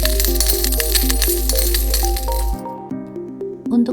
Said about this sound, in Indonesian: Contohnya adalah uang koin. Wah, koinnya banyak sekali.